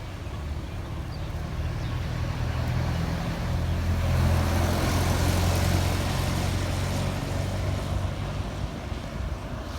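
A GEK diesel locomotive, number 4018, hauls Thai ordinary passenger train 257 from Thonburi toward Nam Tok, a steady low engine drone and rolling rumble near the track under heavy wind noise.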